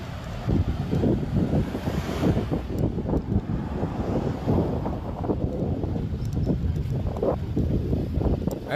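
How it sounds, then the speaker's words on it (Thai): Stormy wind buffets the microphone outdoors, a loud continuous rushing roar with gusty low-end rumble throughout, no speech heard. "ลมพายุเลย"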